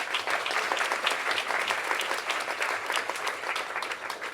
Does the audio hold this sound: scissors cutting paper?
no